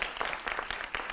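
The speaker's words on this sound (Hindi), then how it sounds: "जोरदार तालियों से उनका अभिनंदन है" Applause from an audience at a political event, a dense patter of many hands clapping with a few sharper bursts, steady and fairly loud throughout.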